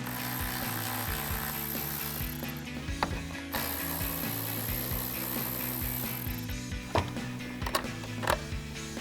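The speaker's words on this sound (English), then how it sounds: "switch to our ratchet 10mm socket and take our 2 bolts out" A ratchet with a 10mm socket removing headlight bolts on a Ford Bronco, quick rapid clicking bursts close up, with a few sharper knocks as the bolts come free.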